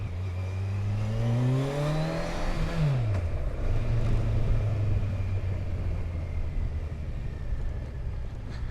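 A 2019 Kawasaki Versys 1000 SE motorcycle engine revs up and settles, its pitch rising and falling, then idles with a steady low rumble at close range.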